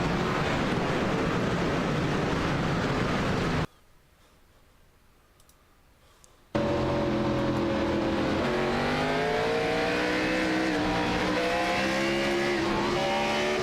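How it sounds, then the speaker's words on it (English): Race cars in the iRacing game snarl off the start of a Texas race with wheelspin and tire squeal, a loud engine roar cut by a few seconds of near silence before revving pitches climb again. "You see bunch of spinning of the wheels, and goodness, an accident already on the start of the race."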